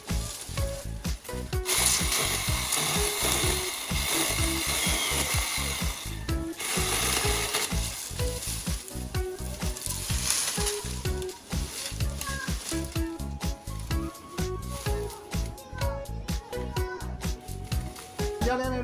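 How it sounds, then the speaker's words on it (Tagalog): A steady buzzing, rattling whine of a cordless rechargeable electric saw cutting wood for a house floor runs continuously at close range, with some fluctuations in its intensity. "May power na lagari dyan. Chargeable. Electric. Electric na lagari."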